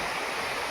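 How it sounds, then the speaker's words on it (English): Stream water and waterfalls flowing on a monsoon trek, a dense, steady rushing roar with no breaks, heard alone. "And there you can see some waterfalls."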